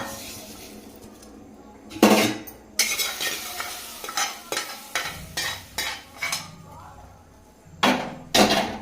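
Fried semiya vermicelli is tipped into a pot of simmering milk and stirred with a metal spoon. Sharp clinks and scrapes come in bursts, each loud and close, over a steady low bubbling, and nobody speaks.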